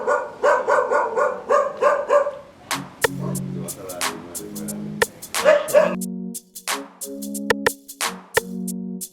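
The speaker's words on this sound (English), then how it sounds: "he is a good dog" Shaggy, a dog at a veterinary clinic in Sierra Leone, gives a loud, close run of sharp barks and yips in irregular bursts, with short pauses and some whimpering in between.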